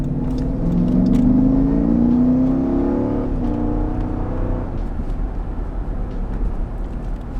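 A Jeep Grand Cherokee SRT engine revs up loudly and climbs in pitch, then settles into a steady, rougher rumble close by.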